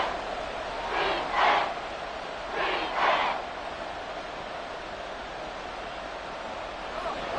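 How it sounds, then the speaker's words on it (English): Stadium crowd at an NFL football game, 49ers vs Chiefs, swelling in two short bursts of cheering over a steady distant roar, fairly faint and without commentary over it. "the crowd getting into it as we come up on a big 3rd down"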